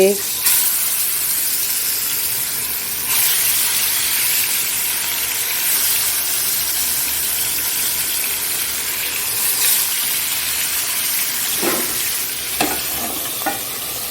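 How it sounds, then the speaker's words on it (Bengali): Fish dropped into hot oil in a kadai, a loud, dense sizzle that holds steady and close, with a few sharp spits and crackles near the end and no talking. "তেলটা গরম হয়ে গেছে তা আমি মাছটা দিয়ে দিচ্ছি"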